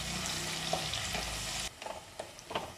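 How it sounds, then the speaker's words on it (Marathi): Green chili, coriander, cumin and crushed garlic paste fry in hot oil, giving a dense, steady sizzle for the first part that suddenly drops to softer crackles and light stirring clicks. "तेल गरम झाले, त्यामध्ये आपल्याला हिरवी मिरची, कोथिंबीर, जिरे आणि लसणाचा ठेचा घालायचा आहे आणि 1 मिनिट चांगलं परतून घ्यायचं आहे।"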